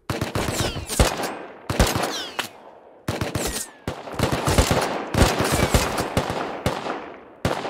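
Bursts of Thompson submachine gun fire in the survival game Rust, several rapid automatic volleys broken by short pauses, loud and close with no talk over them.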